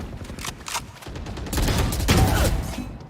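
Phantom rifle fire from Valorant rattles off in rapid automatic bursts, loud and close, with a short pause near the middle before a denser, heavier stretch of shooting and game effects; no voices.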